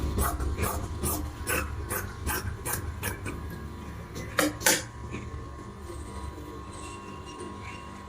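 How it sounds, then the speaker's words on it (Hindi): Scissors snip through excess blouse fabric in a series of crisp, evenly spaced cuts, with a couple of sharper louder snips near the end, over a low steady background hum. "एक्स्ट्रा कपड़े काट देती हूँ।"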